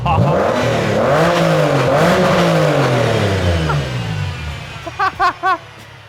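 Porsche engine revving through a newly fitted exhaust, a loud close rise-and-fall of revs over several seconds that fades off, followed by three short sharp blips with a voice underneath.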